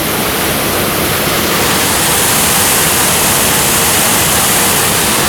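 Rushing water of Lee Creek at Devil's Den, Arkansas, a steady, loud, broadband roar of flowing stream water that fills the whole stretch without pause or voices.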